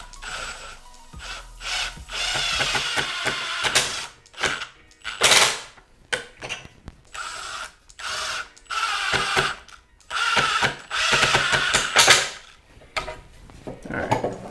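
Power drill driving pocket hole screws into pine, a series of loud whirring bursts of one to two seconds each with short pauses between, close up with no talk.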